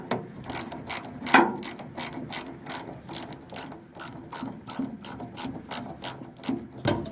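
A ratchet wrench tightens a fitting on the fuel line of a 1974 Ford F250 truck, a close series of quick, evenly spaced clicks repeating throughout, with one louder knock early on.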